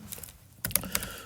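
A teacher types a short note on a computer keyboard in a quiet classroom lesson setting: a few soft key clicks, then a brief louder cluster of keystrokes, near and alone with no talking.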